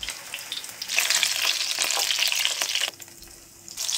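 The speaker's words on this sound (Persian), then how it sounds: "برش میدم و هر طرف رو یک کوچولو سرخ میکنم" Meat and chicken roulade slices sizzle and spatter in hot oil in a frying pan, the crackle loud and continuous, then briefly dropping before rising again.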